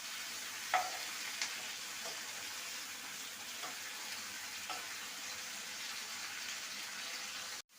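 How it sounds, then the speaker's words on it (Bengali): Cabbage paturi parcels frying in a pan, a faint, even, continuous sizzle with a few light knocks as pieces are turned, cutting off at the end. "এক দিকটা ভাজা হলে অপর দিকটা উল্টে দেবো এবার এগুলোকে উল্টে দেবো"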